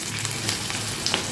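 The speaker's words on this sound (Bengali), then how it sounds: "বেগুন ছেড়ে দিয়েছি, এবার ভেজে তুলব।" Brinjal slices seasoned with salt and turmeric fry in hot oil, making a brief, loud, even sizzle with small crackling pops throughout.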